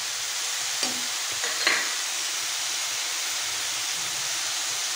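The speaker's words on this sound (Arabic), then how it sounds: "غادي نخلي كلشي حتى يتقلى ليا كلشي هاد المكونات" Ingredients frying and being stirred in a pan with olive oil, herbs, thyme and chopped olives, giving a steady soft sizzle with a few brief utensil scrapes and clinks near the start.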